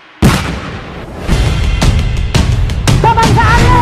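A loud, sharp gunshot effect in a theatre film staging, booming and close, followed by several more heavy blasts and a rumbling roar, with a voice briefly audible near the end.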